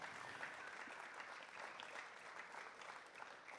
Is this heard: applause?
yes